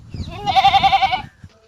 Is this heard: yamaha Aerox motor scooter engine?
no